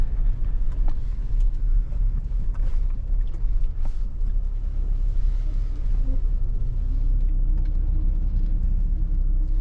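A Mahindra car engine hums and rumbles steadily from inside the vehicle while driving, a constant loud drone that eases off as it slows, with no speech.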